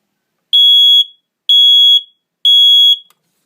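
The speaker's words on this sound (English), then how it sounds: "Nice and basic smoke detector." A basic smoke detector bought at Walmart sounds its alarm: three loud, piercing, evenly spaced high-pitched beeps, each about half a second long, separated by short silences, with no other sound.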